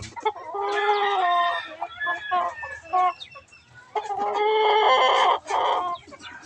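A mother hen clucks repeatedly up close in rhythmic bursts, with short pauses between runs of calls.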